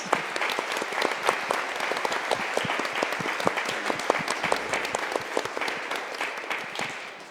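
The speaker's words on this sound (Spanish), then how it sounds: "Un último aplauso a nuestros tres panelistas." An audience at a panel discussion on China and Latin America gives a final round of applause for three panelists. Sharp, distinct hand claps ring out steadily and fairly close, with no talking over them.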